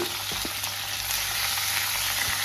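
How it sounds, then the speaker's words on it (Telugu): Green chillies, tomatoes and tamarind sizzle steadily in hot oil for chutney, a continuous close frying hiss with a few small pops and stirring clicks, no voices. "ఇప్పుడు పచ్చిమిర్చి వేసేసుకుందాం. అలాగే టమాటాలు కూడా వేసేసుకోండి, అలాగే చింతపండు కూడా వేసేసుకోండి"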